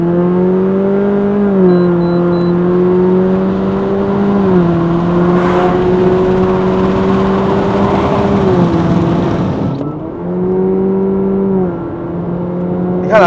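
A tuned Honda Civic FL1 1.5EX accelerating in Sport Mode on a test drive in Malaysia, heard from inside the cabin. The engine drones loudly and steadily, and its pitch steps down a few times at simulated gear shifts.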